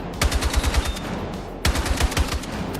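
Rifle fire on a shooting range in Battlefield 6, loud close rapid bursts of shots, a run of quick rounds, a brief pause, then another fast burst, with no talking.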